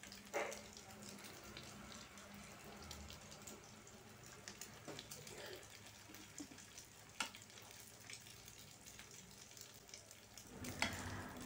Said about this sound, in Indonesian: Lalu panaskan minyak, kemudian masukkan adonan telur kentangnya.